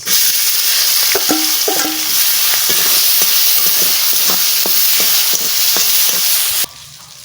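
Whole cumin, green chillies and onion fry in hot oil, a loud continuous sizzle broken by repeated scraping clicks of a stirring spoon, stopping abruptly near the end.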